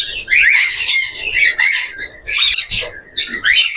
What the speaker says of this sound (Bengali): খুবই রিয়ার মিউটেশনের এক জোড়া কোনুর পাখি